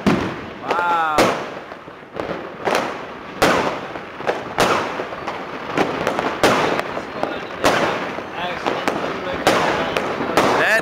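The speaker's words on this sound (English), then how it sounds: "most fireworks, y'all, you can't see them because of the fog" New Year's Eve fireworks burst repeatedly in a foggy night sky, sharp bangs and crackles firing every half second or so, near and loud, with an excited voice exclaiming between blasts.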